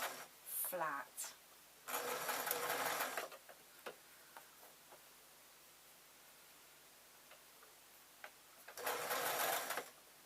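A sewing machine stitches a grab bag with lining and interfacing in three short bursts of rapid, loud buzzing, with quiet gaps and faint handling sounds between them.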